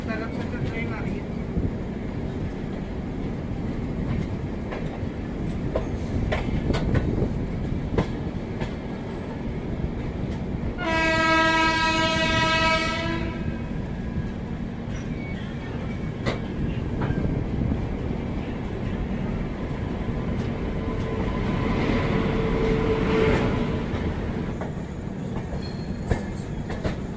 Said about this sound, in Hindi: इस तरफ से तो ट्रेन आ रही है।